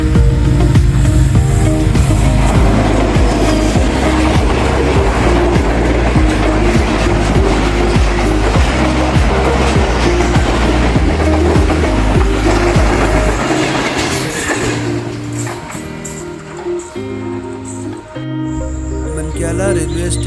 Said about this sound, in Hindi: सबक रफ्तार 102 डाउन रावलपिंडी से लाहौर, और अपनी गरजदार आवाज़ के साथ आ रहा है